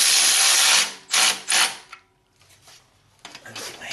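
Ratchet turning a bolt on an exhaust hanger under a 2015 Jeep Wrangler: a few bursts of close, harsh clicking separated by short pauses, with quieter mechanical rattles afterward.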